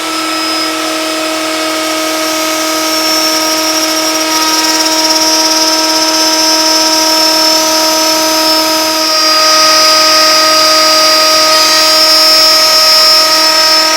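A plunge router cuts slowly across a maple board with a steady, high-pitched motor whine, loud and close throughout, rising slightly in pitch near the end.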